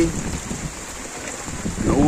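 Heavy rain and gusting wind sweep over a rough, choppy river at Kamrangirchar embankment, a dense steady hiss with low wind rumble, while someone talks over it.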